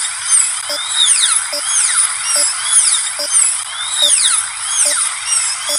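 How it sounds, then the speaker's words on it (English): A dental drill in a video game whines with a high, sweeping pitch that rises and falls in repeated waves. It runs steadily and loud for the whole stretch, with faint regular ticks underneath and no talking. "We're gonna drill now."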